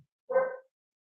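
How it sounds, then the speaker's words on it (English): A single short dog bark, close and clear, standing alone against silence. "excuse my dog"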